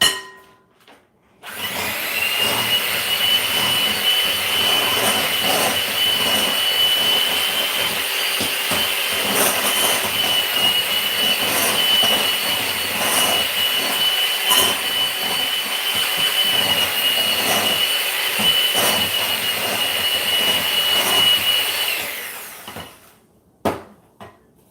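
An electric mixer creams granulated sugar, brown sugar and vegan butter into cookie dough for vegan chocolate chip cookies: a loud, steady whirring drone that switches on abruptly, runs about twenty seconds and then cuts off.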